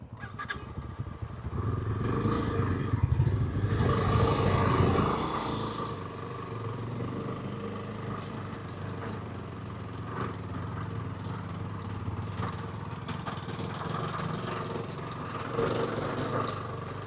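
A motorcycle engine labours up a steep, slippery off-road trail at Varattumedu near Vagamon, revving hard and loud early on, then settling to a steady, uneven throb.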